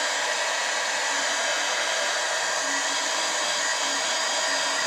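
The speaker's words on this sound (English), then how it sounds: "This is the new and sophisticated heat gun." A new heat gun blows hot air in a steady, loud, unbroken whoosh with a faint motor whine, close up and continuous throughout.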